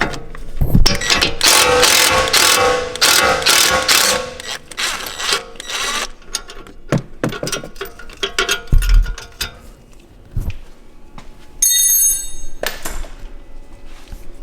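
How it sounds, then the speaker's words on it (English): A socket wrench or impact wrench working a suspension bolt on a BMW F30-series car: loud bursts of mechanical rattling, then scattered clicks, clunks and metallic taps, ending in a high whine. "you can use your impact or a normal socket wrench to get it out"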